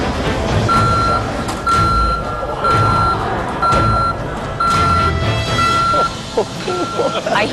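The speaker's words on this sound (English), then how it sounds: "I hear the beeping around me." Steady, evenly spaced reversing beeps from a nearby truck repeat in a regular pattern over engine noise and a busy background.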